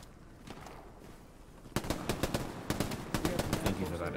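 Rapid automatic gunfire in the World War II shooter Hell Let Loose, distant shots at first, then a loud close burst of repeated fire in quick rhythmic bursts.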